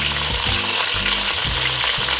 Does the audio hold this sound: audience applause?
no